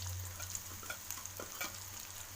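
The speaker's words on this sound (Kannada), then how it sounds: "ಒಂದೊಂದನ್ನೇ ಹಾಕ್ಕೊಂಡು ಡೀಪ್ ಫ್ರೈ ಮಾಡ್ಕೋಬೇಕು" Pieces of idli deep frying one by one in hot oil, a dense, close bubbling sizzle with small pops and spatters over a low steady hum.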